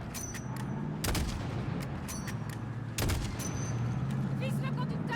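Rapid gunfire aimed at a pick-up truck in Call of Duty: Modern Warfare, with dense bursts and heavy booms near 1 and 3 seconds under shouted voices.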